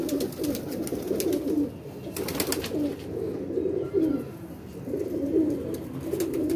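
Pigeons, including red-eyed birds, coo in repeated rolling phrases close by, with short pauses between bursts and faint higher chirps in the background.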